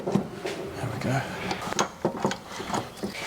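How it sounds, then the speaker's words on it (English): A worn bottom ball joint on a Ford Falcon knocks repeatedly, giving irregular metallic clunks as the suspension moves up and down, with people talking over it. "That knocking noise is literally the ball joint moving up and down there"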